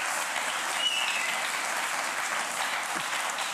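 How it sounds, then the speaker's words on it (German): Steady, dense applause from a television cooking-show studio audience, an even wash of many hands clapping at once with no voices over it. "Applaus, habe ich gesagt."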